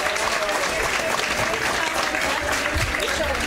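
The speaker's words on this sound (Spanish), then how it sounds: "así que un aplauso a Carlito Bamón" Applause from an audience at a Noche de San Juan celebration in Chiloé, a dense steady wash of clapping lasting throughout with crowd noise beneath.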